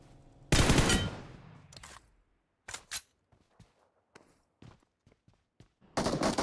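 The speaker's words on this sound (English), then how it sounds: "there were two enemies firing at each other" Enemy gunfire in PUBG, with loud sustained bursts of automatic fire at the start and end and scattered single shots between them, heard without talk.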